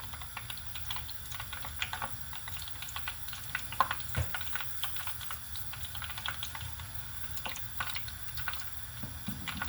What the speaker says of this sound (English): I'll be dropping it into this oil to know how much hot it is